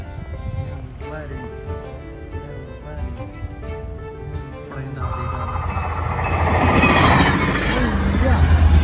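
A train passing nearby, its rumble building from quieter sounds into a loud, broad, sustained roar that keeps rising toward the end.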